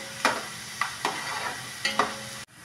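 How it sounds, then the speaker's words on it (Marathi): Garlic and peanuts fry in a pan over medium heat for a spicy puffed-rice snack, sizzling under four or five sharp spoon scrapes, close and fairly loud, then cut off abruptly. "चांगलं तळून घेतलं खमंग की छान लागते लसूण आणि शेंगदाणे"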